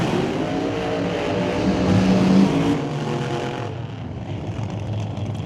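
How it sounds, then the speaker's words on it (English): A blown alcohol drag racing car engine at an NHRA drag strip, a loud sustained whining roar that swells and then fades slightly as it holds its high pitch. "Listen to the difference of the engine, the high whine and scream of the alcohol car"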